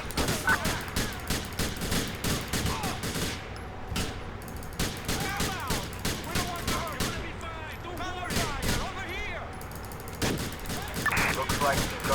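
Repeated gunshots ring out in a GTA IV police mod street shootout, sharp close bursts in an irregular rhythm with scattered voices and background city noise between them.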